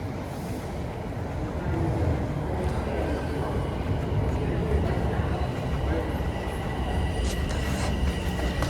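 A TTC subway train rumbles through Davisville station at the southbound platform in Toronto, a steady, close, roaring wash of wheels and motors with faint squeals near the end and a voice speaking over it.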